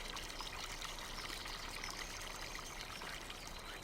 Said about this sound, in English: these fields are actually going to start flooding